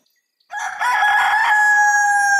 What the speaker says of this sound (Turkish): Kukariku horoz çalar